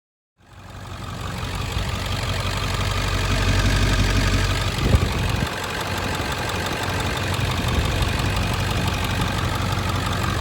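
A 1999 Ford F350 with a 7.3 diesel engine cranks and fires up, then settles into a steady, loud, knocking diesel idle close by, with no talk.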